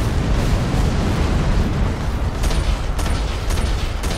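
A turret blows up in the mech battle game Figure Heads, a dense, sustained explosive roar with rumbling booms and a few sharp bursts near the end, loud throughout with no talk.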